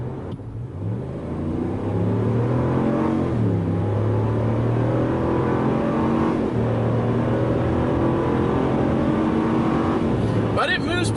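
A 2020 RAM 1500 pickup with a Hemi V8 accelerating hard: a deep, rising engine roar heard from inside the cab, building through gear changes, loud and continuous.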